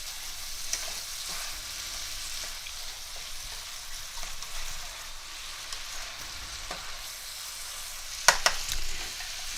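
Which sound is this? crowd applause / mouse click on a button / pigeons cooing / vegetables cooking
vegetables cooking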